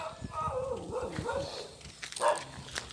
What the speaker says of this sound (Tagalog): Ay, halika na, yung aso, mayroong aso.